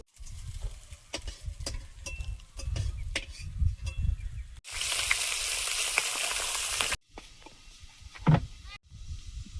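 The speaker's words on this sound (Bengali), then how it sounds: "মাছগুলো ভাজা হয়েছে, তুলে নেব।" Pieces of rohu fish fry in hot oil in a pan, a loud continuous sizzle and crackle with sharp spitting pops, the hiss swelling strongly for a few seconds midway before easing back.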